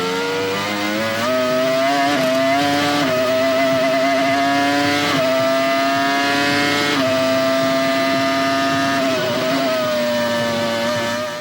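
Williams FW22 Formula 1 car from 2000 powered by the BMW E41 V10, its high-pitched engine wailing loud and steady with rising and falling revs, close and continuous throughout.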